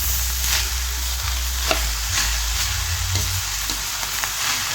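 Adobo with vegetables sizzles and fries in a pan as pepper and oyster sauce are stirred in, a steady close crackle with occasional scraping and no talk.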